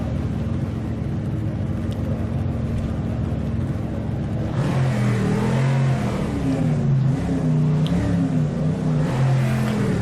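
A race car engine in the rFactor 2 sim racing game on manual start, idling at first, then revving up in repeated rising and falling surges, loud and close, with no talking.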